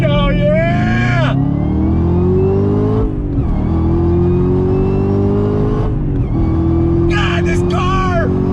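A Lingenfelter-prepped 2020 Chevrolet Camaro ZL1 1LE accelerating hard on throttle, a loud, continuous rising engine roar that climbs through the gears with brief dips at each shift.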